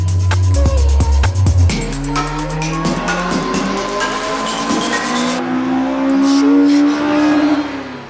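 A naturally aspirated Honda Civic Type R engine, built to about 300 hp, revs hard to around 9000 rpm, its loud, rising scream sweeping up and holding near the limit with rapid revving, close and dominant throughout.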